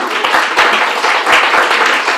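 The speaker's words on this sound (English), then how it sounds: "I think that deserves a great clapping." A room of listeners at a blogging talk claps steadily throughout, a dense, even patter of many hands with a few sharper individual claps standing out.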